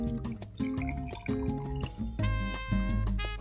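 Sumol pineapple Portuguese sparkling fruit drink pours into a glass over ice, a close, continuous liquid gurgle and fizz with small dripping and clinking accents, no voices.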